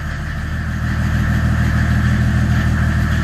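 A cold OM606 diesel engine idles in a converted 4x4 Renault Trafic/Vauxhall Vivaro campervan, a loud, close, steady low rumble with a constant knocking pulse and no voices.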